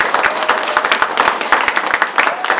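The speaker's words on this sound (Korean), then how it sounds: "다시 한번 우리 바른농구 박종호님에게 큰 박수 보내주시죠" Steady audience applause at a Korean farmers' storytelling event, dense overlapping claps filling the room at close range for the whole stretch.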